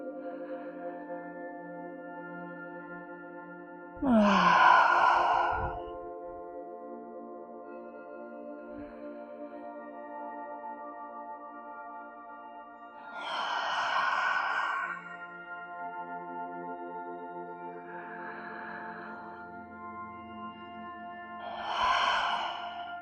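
Deep breaths pushed out through the mouth during a gentle yoga breathing exercise: three long, audible exhalations spaced several seconds apart over steady, soft background music.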